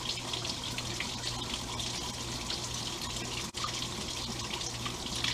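Water rushes steadily through the engine and radiator of a Willys L134 Jeep during a flush after oil was found in the radiator, a constant close gushing flow with one brief dip.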